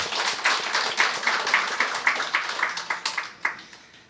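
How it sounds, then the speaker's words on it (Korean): Steady applause from a church congregation welcoming a visitor, a dense patter of hand claps that rises and falls slightly and fades toward the end. "우리 뜨거운 박수로 환영하겠습니다"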